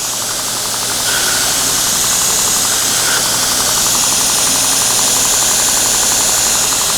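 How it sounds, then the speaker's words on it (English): A surface grinder feeds into a workpiece with a fine downfeed, its loud continuous machine drone and hissing grind holding steady and close with a faint rattling vibration. "I'm going to grind it there"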